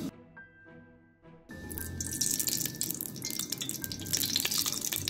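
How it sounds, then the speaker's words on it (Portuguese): Two tablespoons of oil go into an already heated pan on a home stove, opening with a quiet stretch and then a steady, close hiss and crackle of sizzling that carries through to the end without talk. "minha panela já tá aqui, aquecida. Eu vou colocar 2 colheres de sopa de óleo."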